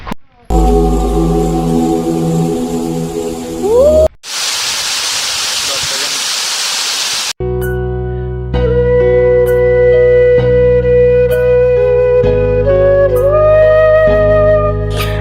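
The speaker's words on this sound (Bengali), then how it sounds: "সুপ্তধারা ঝর্ণা" Suptadhara waterfall in the Sitakunda hills near Chandranath, Chattogram, rushing water heard as a steady broadband roar in bursts, interrupted by a sustained tonal musical passage for much of the clip.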